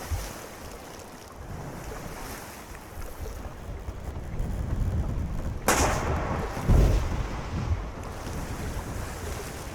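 A ship's cannon fires once in the sailing game Sail Forth, a sharp blast partway through, then a lower rumble, over steady wind and waves washing against the boat.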